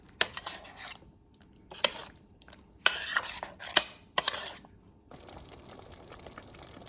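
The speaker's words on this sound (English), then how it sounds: "Now I'll just mix this and put it on the stove for maybe 10 or 15 minutes." Metal spoon clinking and scraping against a pot while meatball sauce is stirred, a few sharp close knocks and scrapes in uneven bursts followed by a steady low background hiss.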